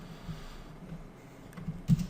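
Typing on a computer keyboard during a coding session: a few soft, close key taps scattered over a quiet background, ending with a sharper cluster of louder clacks.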